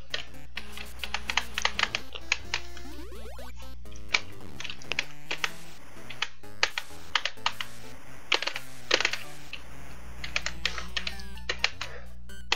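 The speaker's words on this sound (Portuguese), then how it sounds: "Eu parece que tá amassando o teclado." Computer keyboard typed on hard during a Wario Land glitchless speedrun: a dense, continuous stream of close, sharp key clacks and heavy presses, with occasional fuller keystrokes standing out.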